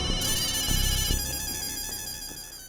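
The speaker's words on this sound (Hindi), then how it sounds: "किसका फोन है?" A phone ringtone rings loudly and steadily in a domestic TV-comedy setting, a bright repeating melodic pattern filling the short stretch with no voices over it.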